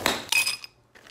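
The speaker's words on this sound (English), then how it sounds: "Now the first thing you need to do is get crushed ice. We're gonna put our ice cubes in a thick bag." Ice cubes being crushed in a thick bag for a gin smash cocktail: two sharp, glassy crunching bursts close together, then a brief pause and a fainter third clatter, heard alone at close range.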